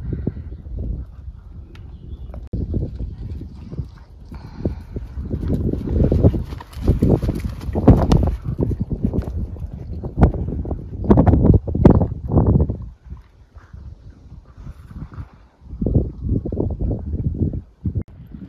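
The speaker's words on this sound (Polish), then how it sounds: "Bardzo dobry galop." A horse canters down a show-jumping line set at 13 metres, its rhythmic hoofbeats thudding in repeated bursts on arena footing, fairly close, with brief pauses between strides and no talk.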